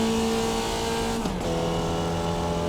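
A simulated Formula Vee racer's air-cooled Volkswagen engine held at full revs, around 7,000 RPM, a steady high drone that dips and shifts tone briefly midway, then settles into a sustained buzzing note with no talk.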